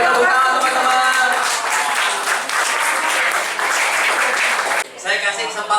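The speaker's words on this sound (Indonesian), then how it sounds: "Oke, tepuk tangan teman-teman." Audience clapping hands at a live seminar event, a loud sustained burst of applause filling the room for several seconds, briefly dipping near the end before picking up again.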